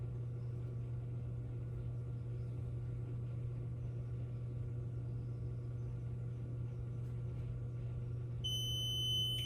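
A short electronic beep near the end from an automatic reloading powder measure, with steady low mechanical hum running underneath throughout.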